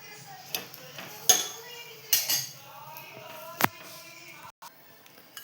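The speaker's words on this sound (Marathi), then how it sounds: "इथे आपण आता पलटी मारतो याला" Food flipped in a pan with a spatula during cooking, giving a few sharp metallic clinks and scrapes against steady kitchen background noise.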